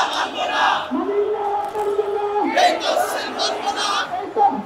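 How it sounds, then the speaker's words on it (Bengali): Marchers of Islami Andolan Bangladesh heading toward the Election Commission chant anti-government slogans in unison, a loud, rhythmic crowd of voices in the street with chatter and a lead caller between chants. "ইসলামী আন্দোলন বাংলাদেশের নেতা কর্মীরা তারা মিছিল নিয়ে সরকার বিরোধী নানা স্লোগান দিতে দিতে নির্বাচন কমিশনের দিকে অগ্রসর হচ্ছে"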